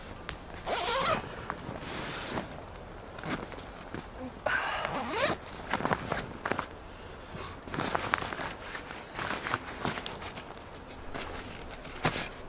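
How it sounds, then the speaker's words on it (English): Heavy-duty zips on a Ridgemonkey XF bivvy being opened, with several quick rasping pulls that come in bursts, close and fairly loud, separated by softer fabric rustling and handling noise. "Nice big strong zips."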